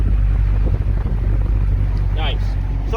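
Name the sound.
V8 muscle car exhaust rumble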